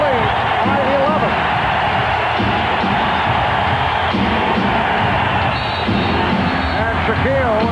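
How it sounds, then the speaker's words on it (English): A loud, dense crowd cheers steadily in a basketball arena during a 1995 NBA game between the Orlando Magic and the Phoenix Suns in Phoenix, with a commentator's voice talking over the roar. "The crowd responds."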